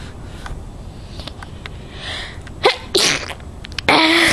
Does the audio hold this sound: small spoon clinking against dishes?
no